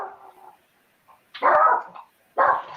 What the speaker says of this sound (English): I thought I heard Sassy barking.